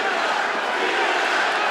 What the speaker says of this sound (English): the chants of Diaz ring through the crowd